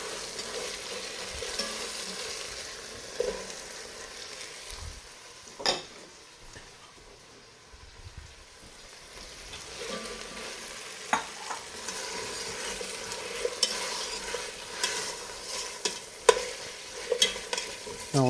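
Onion and carrot sauté in a pot for beef bourguignon, a soft steady sizzle with occasional sharp clicks of a spoon scraping and stirring against the pot, moderately close and without talk.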